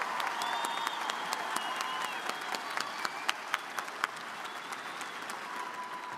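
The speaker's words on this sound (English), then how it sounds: "we can clap" Steady applause from a large crowd in an arena at a university commencement ceremony, continuous dense clapping with a few sharper claps standing out, heard from a distance.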